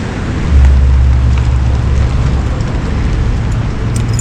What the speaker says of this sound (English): that annoying humming sound that I've been experiencing while driving down the road